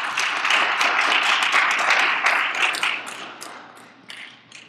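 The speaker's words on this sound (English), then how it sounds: "Give yourself a round of applause just for being here." A church congregation at a Baptist anniversary service claps together in a dense burst of applause that holds strong for a few seconds, then thins into scattered individual claps as it fades out.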